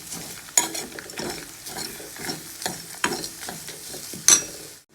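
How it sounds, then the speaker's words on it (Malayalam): Half a spoon of chili powder being stirred into coconut and rice sautéing in a pan for traditional muppuli: repeated scraping strokes of a spoon against the pan over a steady soft sizzle, close and continuous, with no voices. "ഞാനിവിടെ 1/2 സ്പൂണ് മുളക് പൊടി ഇട്ട് കൊടുത്തിട്ടുണ്ട്. നന്നായിട്ടൊന്ന് വഴറ്റുക."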